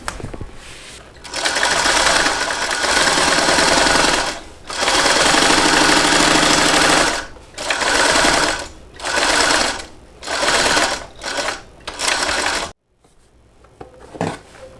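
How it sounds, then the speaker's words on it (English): A sewing machine top-stitches fabric in loud, close bursts of rapid mechanical whirring, several long runs broken by short pauses, then shorter stop-start bursts before falling quiet. "now I'm just going to add a top stitch right beneath that, an 1/8 of an inch seam allowance"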